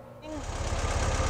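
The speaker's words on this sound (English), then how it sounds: "We've got the engine good and warm and it's running." A warmed-up Porsche 356 engine with Zenith carburetors idles with a steady low throb that swells slightly after a brief quieter start, its air cleaners removed.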